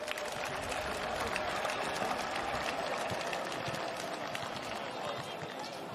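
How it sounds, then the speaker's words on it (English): Crowd applauding a football coach at a community league grand final, steady dense clapping outdoors at a moderate distance, continuous for several seconds. "A big round of applause."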